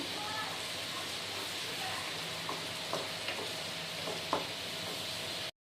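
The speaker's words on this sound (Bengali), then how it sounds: "আর একবার সামান্য জল নিয়ে আবার কিন্তু মশলাটা কষিয়ে নেব" Spice paste sautéing in a pan with a little added water for a vegetarian potato and pointed gourd curry, a dense continuous sizzle with a few soft scrapes of stirring, close and even, without talking.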